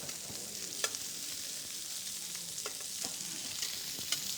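Bacon-wrapped Gulf shrimp fry in a pan with a steady close sizzle, and sharp taps and clicks sound as the pieces are turned over one by one.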